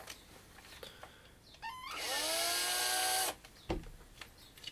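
A power drill whirs up to speed for about a second and a half, spinning a plastic RC car part held with washers for filing down; faint handling clatter comes before and after, with no talk.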